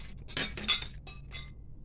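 Ice cubes clink against a glass as mango and banana juice goes in, a short cluster of bright, close chinks with no talk.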